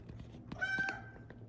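A house cat gives a short, clear meow close by, a single rising and falling call over soft background noise.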